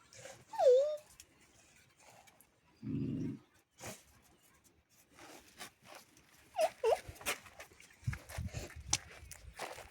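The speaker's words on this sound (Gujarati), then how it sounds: "અંદર કૂતરું બેઠું છે" A dog shut inside a house gives a few short, faint whimpers, scattered among soft footsteps and light shuffling noises at a distance.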